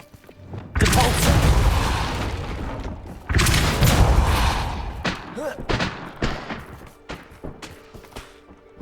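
A Depulso force-push spell goes off in Hogwarts Legacy, two loud, forceful blasts followed by a run of sharper, shorter impacts and crackles, close and dominant with no talking over them.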